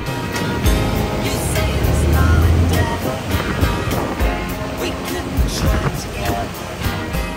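Strong ocean waves after heavy rain roll and crash continuously along the coast at Matnog, Sorsogon, with wind buffeting the microphone and a low rumble throughout.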